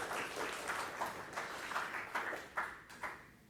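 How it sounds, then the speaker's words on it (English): Scattered applause and a few whoops from a Linux developers' conference audience cheering DebConf in India, fairly faint and distant, with claps bunching into rough bursts before thinning out. "Can I get a round of applause for DebConf in India?"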